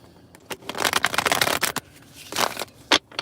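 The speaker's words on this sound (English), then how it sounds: "I'm going to shuffle these cards up" Tarot cards being shuffled up close, a run of crisp riffling and flicking bursts with short pauses between them, no voices present.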